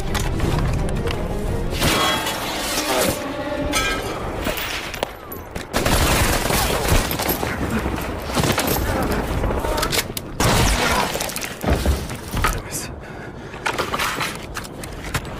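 Gunfire rattles through a war film battle scene, with dense bursts of rifle and machine-gun shots, booms and clatter loud and chaotic, broken by brief lulls.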